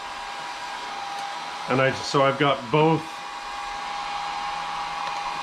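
A hair dryer and a ceramic heater run together on a solar generator, producing a steady even whoosh throughout, with someone speaking briefly over the constant hum.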